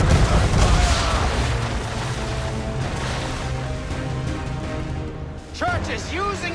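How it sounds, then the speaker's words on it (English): Naval battle in Assassin's Creed 3 with heavy cannon booms and gunfire rolling over the water, loud and dense at first then settling into a rumbling background, with voices shouting over the combat. "Enemy gunfire!"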